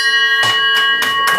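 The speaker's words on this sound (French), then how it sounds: "fait sonner la cloche." A bell rings in steady, loud strikes, about four evenly spaced clangs with sustained ringing tones between them.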